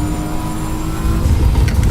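A BMW GT3 race car engine in Assetto Corsa EVO holds a steady loud drone that swells and rises in revs toward the end, with no talk over it.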